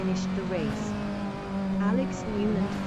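A Clubman Drivers Championship race car crosses the finish line at the end of race 1, its engine tone sweeping past steadily under commentator speech, loud and continuous throughout.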